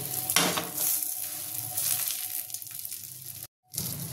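Prawn toast frying in hot oil in a home kitchen, a steady close sizzle and crackle with stirring noises, broken by a brief silent gap near the end before the sizzle resumes.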